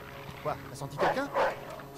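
Dog barking in the Mafia 2 video game, a few short yapping bursts in quick succession over steady game background noise, moderately close.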